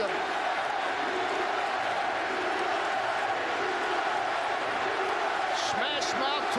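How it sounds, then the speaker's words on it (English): Stadium crowd roars continuously at a 2015 Rugby World Cup match between the USA Eagles and the Australian Wallabies, a loud dense wash of cheering heard under a commentator's talk. "The crowd trying to encourage them."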